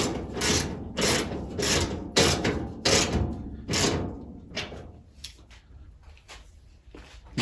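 Quick ratcheting clicks come in repeated bursts, then lighter scattered clicks, close and clear, as a nut is fitted and tightened on the trunk lid of a 1936 Chevy Coupe.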